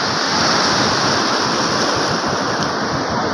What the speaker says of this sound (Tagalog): Sobrang lalaka ng alon.